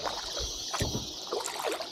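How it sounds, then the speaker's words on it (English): Kayak paddle strokes on a crater lake in Costa Rica, soft water swishes and drips against steady wind, one clearer splash near the middle and a couple of lighter strokes later, close and moderately quiet. "What a great way to spend the afternoon though, kayaking on a lake."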